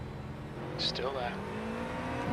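Race cars in the iRacing sim at Imola, a car sweeping past close with a quick rising and falling engine whoosh over a steady engine drone, while a voice talks over it.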